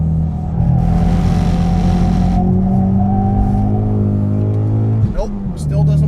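Race car engine in a racing video game holding a loud, steady high-revving drone, then dipping sharply with a quick gear-shift stutter near the end before settling back to a lower hum.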